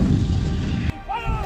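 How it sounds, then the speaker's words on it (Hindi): A 155 mm ultra-light howitzer fires a shell at the Mahajan field firing range during a desert exercise, one sharp, heavy boom that cuts off abruptly, followed by a fainter rumble and distant tone. "पिनाका की तरह ही ओविस्तर तोप से महाजन फायरिंग रेंज में दनादन गोले दागे जा रहे हैं"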